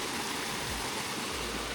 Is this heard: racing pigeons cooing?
no